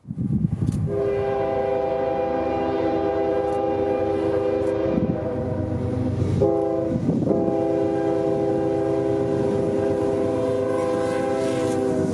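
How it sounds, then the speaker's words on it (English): Four GE locomotives running wide open haul a freight train past close by, horn blaring in long sustained blasts over a loud, continuous engine roar and wheel rumble. "Those 4 GEs would be wide open, so by the time they were passing us, they kicked up some dust, shaking everything"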